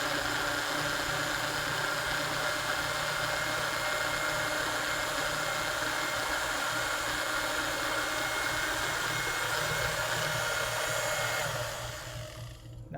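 Blender or food processor grinding thawed raspberries, a loud, steady motor whir that runs for about twelve seconds with no voices, then winds down and cuts off at the end.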